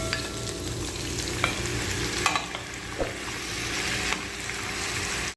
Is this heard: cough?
no